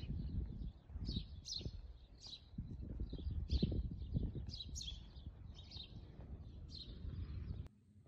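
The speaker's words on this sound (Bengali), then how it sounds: "কি সুন্দর কিচিমিচি আওয়াজ।" Early-morning birds chirp near trees at dawn, with bright repeated calls over a steady low outdoor rumble, fairly close and continuous.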